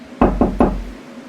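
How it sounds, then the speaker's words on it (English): Three firm knocks on a car window, close and loud, evenly spaced in quick succession with no other sound around them. "I tipped the guy and got in my car ready to leave when someone knocked on my window."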